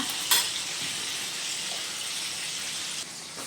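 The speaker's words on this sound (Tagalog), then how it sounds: "Katalsikan pa ng mantika." Fish frying in hot oil in a pan gives a steady, close hiss of sizzling with a brief louder crackle near the start, and the sound continues alone without talk.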